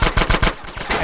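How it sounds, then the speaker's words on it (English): Rapid gunfire from a sniper shootout in the video game GTA San Andreas, several sharp loud shots in quick succession over about a second, close and alone. "That was a sniper bullet!"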